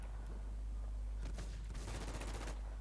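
Gunfire in the online survival game WarZ: a few quick bursts of shots under a constant low in-game hum, the loudest cluster arriving near the end.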